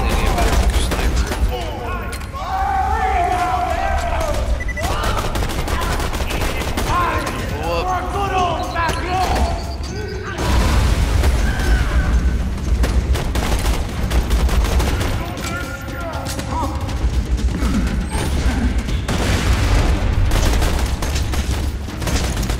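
Sniper rifle fire in the video game Borderlands 2, with game effects and gunfire bursts running through a busy, loud mix alongside talking.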